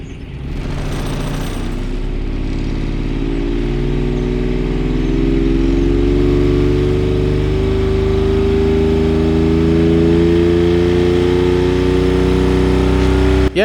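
A Kubota diesel engine fitted in a Saturn car runs loud and close, its pitch climbing gradually as it revs up and holds a high steady drone.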